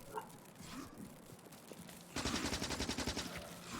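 A shotgun firing in the factory-building game Factorio, where a rapid series of sharp, evenly spaced blasts comes in after a quieter stretch of low background noise and continues to the end.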